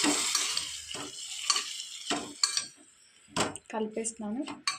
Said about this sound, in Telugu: సో ఈ బీట్రూట్ మిక్స్చర్ నేను తాలింపులో వేసేసుకొని